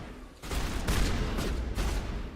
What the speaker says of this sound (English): look at that damage with the shotgun